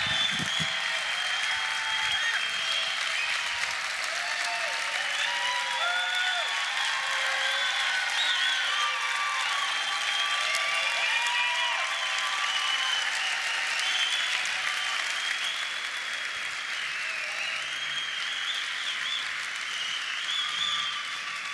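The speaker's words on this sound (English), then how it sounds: "why are all these people clapping for grandpa?" A large convention audience applauds continuously for about twenty seconds, dense sustained clapping with a few cheers mixed in, loud and even throughout with no pauses.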